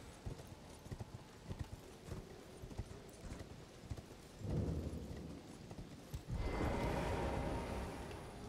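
Horse hooves clip-clop steadily while riding across open ground in Elden Ring, a continuous galloping rhythm that swells louder toward the end, with a brief whinny-like cue and no talking.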